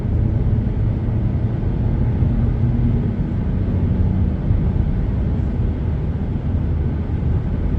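A car driving on a highway at night as it speeds up, a steady low engine and road rumble filling the cabin, loud and continuous with no talk.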